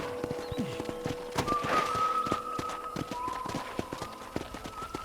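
Horse hooves clip-clop in a steady rhythm at moderate distance in the video game Red Dead Redemption, with a faint whistle-like tone and soft background sounds.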